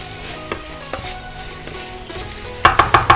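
Pork goes back into a hot pan of drunken spaghetti, giving a continuous low sizzle with occasional soft knocks, then a quick run of four louder clanks near the end.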